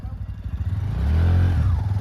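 A motorcycle engine putters close by, its rapid pulsing note rising briefly into a smoother rev before settling back.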